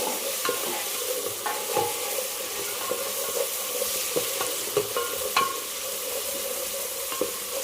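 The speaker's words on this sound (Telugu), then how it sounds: "అల్లం వెల్లుల్లి పేస్ట్ వేసేసుకొని పచ్చి వాసన పోయేంత వరకు బాగా ఫ్రై చేసేసుకోవాలి." Ginger-garlic paste fries with onion and green chilli in a pan for a chicken curry, a constant soft sizzle under repeated scraping stirs of a spoon, with no one speaking.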